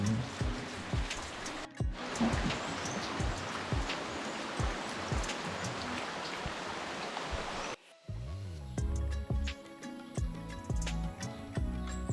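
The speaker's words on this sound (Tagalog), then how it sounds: "Ayun po, umuulan na." Steady rain hisses loudly for several seconds, then gives way to quieter patter with scattered drips and clatter.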